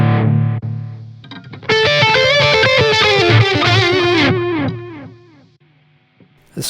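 Electric guitar played through the Distortion Plus effect on a Zoom G3Xn multi-effects processor with delay, giving a loud, saturated run of distorted notes with sustained chords that fade out, ending with a brief pick noise.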